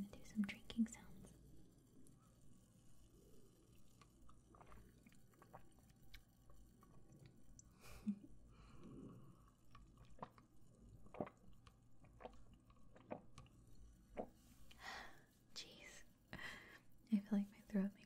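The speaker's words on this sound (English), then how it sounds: "I'm going to do some drinking sounds." Soft ASMR drinking sounds up close: quiet sips, gulps and wet mouth noises spaced irregularly, with faint whispering and light background traffic.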